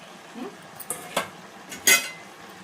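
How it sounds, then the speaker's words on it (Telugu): A spoon scraping and clinking against a cooking pot as amaranth tomato curry is stirred, a few sharp metallic knocks at irregular intervals. "ఇప్పుడు మనం మంచిగా కలుపుదాం"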